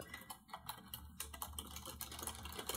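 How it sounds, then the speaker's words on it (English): Rapid clicking keystrokes tapped in uneven bursts, quiet and close, continuing steadily without any voices. "Sorry, you're going to hear me typing."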